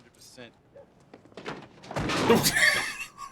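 A person slams into a door in the 1982 action film 48 Hrs, producing a heavy thud that swells into a longer rumbling knock midway, with voices talking around it.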